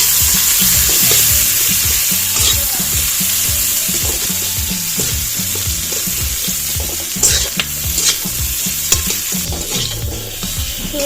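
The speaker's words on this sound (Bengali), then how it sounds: "একটু পেঁয়াজ আর কাঁচা লঙ্কা একটু ভেজে নেব।" Onion and green chilli frying in a pan, a loud continuous sizzle with rhythmic stirring scrapes throughout, close up and without talk.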